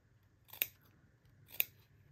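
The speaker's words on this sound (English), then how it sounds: "grab our scissors and we're going to snip into the corners as close as we can get without cutting our threads" Scissors snip into fabric corners for a sewing project, giving two crisp, close metallic cuts about a second apart in an otherwise quiet room.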